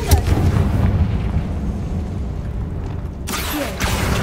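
A Confringo spell blast in a Harry Potter video game tomb: a loud, sustained booming explosion rumbling throughout, with a fresh burst of energy near the end.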